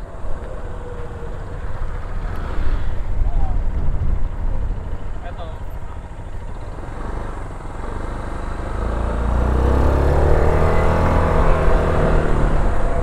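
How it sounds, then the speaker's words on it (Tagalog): A SYM ADX TG 400 adventure scooter revs and pulls hard on a test ride, engine and wind roar building steadily and swelling louder toward the end, with a rider talking over it. "Ang responsive din ng kanyang engine"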